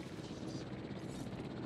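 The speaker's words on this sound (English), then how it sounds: "Transport helicopter, boom. Drop you in your new home." A transport helicopter in the game Jurassic World Evolution, its rotor chop a steady, dense roar held throughout, loud and close with no pauses.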